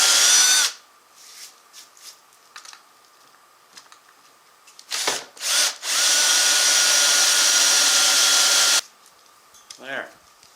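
Power drill with a special bit boring a hole to a one-inch depth marked with tape, for a black iron pipe stair railing; a loud steady whine of about three seconds after shorter bursts and quiet gaps.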